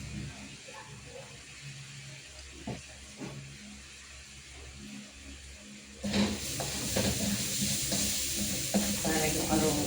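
Garlic frying in a pan, first a steady low sizzle with a few stirring knocks, then a louder, brighter hissing sizzle over the last few seconds.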